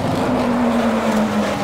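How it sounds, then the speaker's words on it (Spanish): A loud, sustained race car engine roar in the racing game Assetto Corsa Competizione, with a steady droning pitch, close and continuous, like a revving motor held at speed. "cuando acelera el coche es demencial como se escucha"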